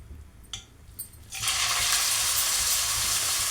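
Grated bottle gourd is tipped into hot ghee with a couple of light clinks, then bursts into a loud, continuous sizzle that holds steady to the end.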